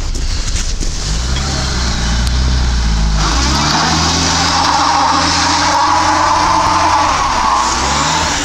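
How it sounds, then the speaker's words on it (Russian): A Lada Niva 4x4 revving hard with only its rear wheels spinning through a limited-slip differential, loud close engine roar with tire skidding noise, steady and continuous throughout. "То есть крутятся только задние колеса за счет дифференциала повышенного трения."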